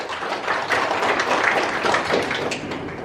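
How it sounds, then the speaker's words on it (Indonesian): Applause from an audience at a company gathering, a dense, continuous wash of many hands clapping at once, fairly loud and steady throughout with no voices standing out. "Tepuk tangan buat kesatuan"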